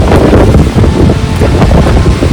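Monsoon-swollen Nanemachi waterfall in the Sahyadri hills of Maharashtra, a loud, steady broadband roar of falling water mixed with wind buffeting against the microphone, with no voices.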